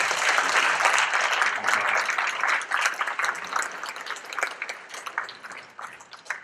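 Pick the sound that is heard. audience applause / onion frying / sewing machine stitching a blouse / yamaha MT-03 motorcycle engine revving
audience applause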